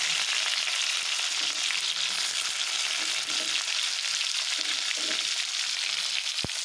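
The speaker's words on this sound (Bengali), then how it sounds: "তো বন্ধুরা তেলটা আমার গরম হয়ে গেছে, এখন দিয়ে দেব এই দেখো কালো জিরে, খুব অল্প পরিমাণ।" Nigella seeds and grated onion frying in hot oil, a dense, steady crackling sizzle filling the whole stretch, ending with a sharp knock.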